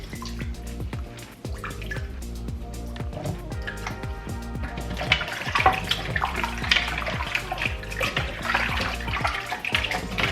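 Tap water runs and splashes over oxtail meat in a bowl, with irregular drips and clatters of handling, growing busier and louder midway, close and steady with no talk.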